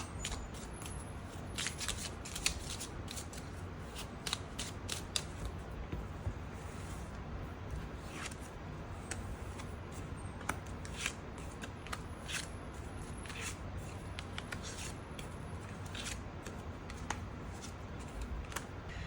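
Tarot cards being shuffled and drawn for a weekly reading: soft, close rustling and quick papery flicks and snaps, repeated irregularly throughout at low volume with no talking.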